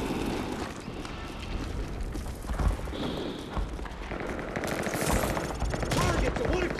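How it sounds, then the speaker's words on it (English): Rapid bursts of gunfire crackle in Call of Duty: Modern Warfare 3 over a busy mix of explosions and thuds, with a voice briefly heard in the chaos. "There's some gunshots."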